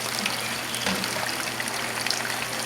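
A hand rinsed under a running kitchen tap, a steady close hiss and trickle of water running without pause for a few seconds.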